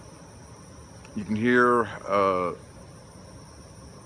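Crickets trill steadily outdoors beside a creek, a faint, continuous high chirping that runs through the whole stretch while a person talks briefly over it.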